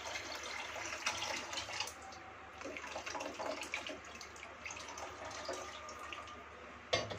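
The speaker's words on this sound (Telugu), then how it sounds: "దాంట్లో ఇంకా కొంచెం వాటర్ యాడ్ చేసుకుని మనం దీంట్లో వేసుకుందాం" Water being added to a cooking pot holding a tamarind-based fish curry, a continuous soft splashing and trickling pour that runs steadily throughout, with faint clinks.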